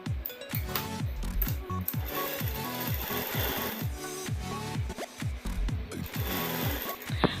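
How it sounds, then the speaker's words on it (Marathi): An overlock sewing machine runs a lock stitch along the seam of a katori blouse, a close mechanical chatter in bursts and stops, with rhythmic thumps as the machine starts and slows. "मी पहिले लॉक टाकणार आहे"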